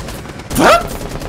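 Gunfire in the video game Rainbow Six Siege arrives as a brief, loud burst of shots, close and sharp, over a low background murmur.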